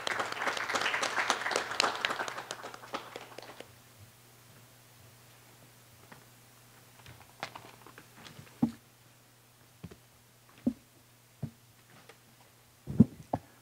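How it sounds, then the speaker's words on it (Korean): Audience applause welcomes a speaker at the opening of a conference, a full burst of clapping that fades after about three seconds into quiet, broken by scattered isolated taps and knocks. "여러분 큰 박수로 환영해 주세요."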